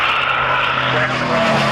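A warbird propeller aircraft at an air show at Matamata Airfield, New Zealand, applies heavy power for a fast run. Its engine makes a loud, steady, droning roar that fills the whole stretch.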